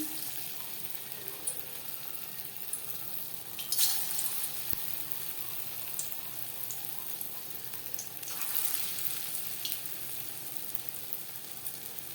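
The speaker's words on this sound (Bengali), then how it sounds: "এবার যাচ্ছি নেক্সট স্টেপে কোপ্তা ভাজবার জন্য বেশ খানিকটা রিফাইন্ড গরম করে নিয়েছি" Raw-banana kofta balls fry in hot refined oil in a wok, giving a steady, soft sizzle with a few brief bursts of louder crackle and a light stirring clink.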